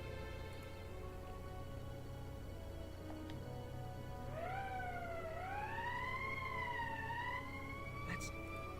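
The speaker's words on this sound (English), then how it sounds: "That's the emergency siren." An emergency alarm siren in the Valkyria Chronicles video game wails with a rising, swooping electronic tone that starts midway and repeats in waves over a steady low hum, with no talking.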